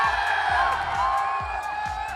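An audience at a film awards ceremony applauds and cheers with steady clapping, whoops and crowd noise, and a rhythmic low beat pulses underneath.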